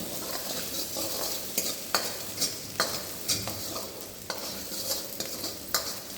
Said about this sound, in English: saute it well until you get the aroma of ginger and garlic.